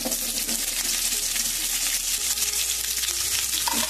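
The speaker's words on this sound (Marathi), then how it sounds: "कांदा असा ब्राऊन होऊ देते।" Onion browning in a pan with cinnamon and green chili, a dense continuous sizzle and crackle throughout, close and steady with no speech.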